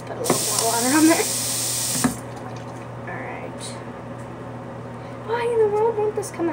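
Water gushes from a tap for about two seconds at a hotel ice machine, a loud bright rush that then cuts off, followed by light clatter and people talking.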